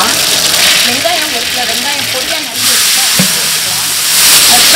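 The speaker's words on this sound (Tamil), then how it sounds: "100 கிராம் கடுகு போட்டுக்கலாம்" Mustard seeds hiss and sizzle in hot oil in a large cooking pot, a loud steady frying wash with a few faint pops throughout.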